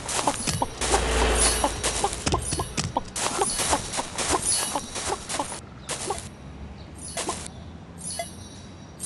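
Chicken clucks mixed with busy game sound effects and bumps, fairly loud and continuous, with bursts of rapid clattering.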